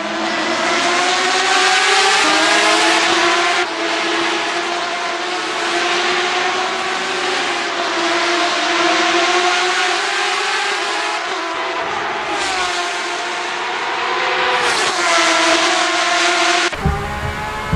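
Porsche 911 RSR race cars roar through a racing video game round at Circuit Zandvoort in full weather, a loud continuous engine howl with shifting pitch as cars chase each other, a brief change near the end.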